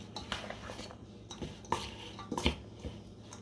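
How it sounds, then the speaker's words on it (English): Cornbread salad being stirred in a bowl, with a spoon scraping and clinking against the dish in a few soft, irregular strokes, fairly quiet and close. "But just stir it up like that"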